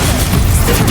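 A loud, dense burst from the Expulso exploding spell in Hogwarts Legacy, a full-band boom and crash holding steady for about a second with no gap.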